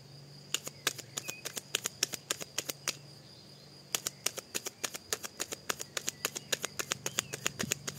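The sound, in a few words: shuffling and drawing cards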